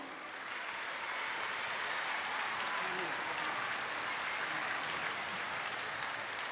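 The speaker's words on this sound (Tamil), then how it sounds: "மாணவர்கள் அனைவரும் கூட எழுந்து நின்று கரகோஷம் எழுப்பலாம்" Students rising to their feet in a college hall to give a standing ovation in tribute, a broad wash of clapping heard from a distance, steady and even for the whole stretch with no voices over it.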